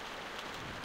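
Rain falling outside a barn in The Walking Dead video game, a soft, steady hiss of drops with no distinct hits, heard briefly and quietly.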